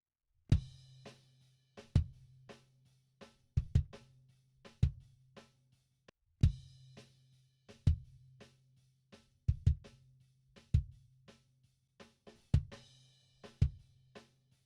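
Drum kit recorded through a Rupert Neve 5088 console with no equalizer, playing a steady groove of deep kick thumps and sharp snare cracks with ringing cymbals, close and dry, no talking.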